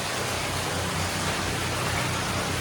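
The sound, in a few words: water flowing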